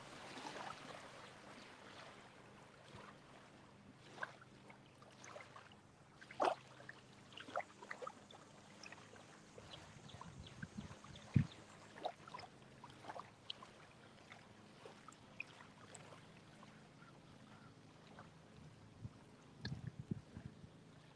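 Small waves lap and splash close by on the Fox River channel during a catfishing outing, a soft irregular trickle and slap that comes and goes faintly, with occasional louder knocks near the fishing lines.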